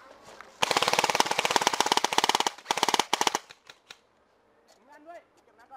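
Airsoft rifles firing in rapid automatic bursts during a game in Thailand, a loud close rattle of shots that breaks into shorter volleys, then quieter moments with people shouting in the background.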